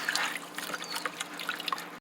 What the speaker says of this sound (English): Rinsing the parsley under the water.